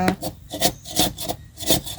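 Bamboo is split into thin strips for tying rice seedlings, with repeated rasping, scraping strokes in a steady rhythm, close and fairly loud.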